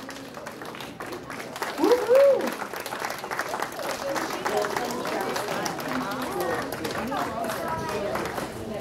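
An audience at a horse project awards banquet claps steadily in a hall, with a cheer rising briefly near the start and murmured chatter running under the sustained applause.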